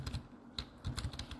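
Typing on a computer keyboard while entering code, a quick run of close, crisp key clicks in an uneven rhythm, with no voices.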